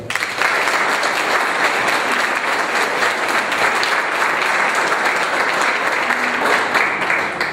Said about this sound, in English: Let's give a big round of applause to Morton High School's James Cizelle.